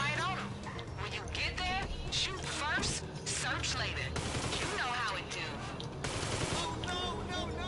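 Gunfire in the video game GTA, rapid bursts of shots layered with music and other game sounds, busy and loud throughout the whole stretch.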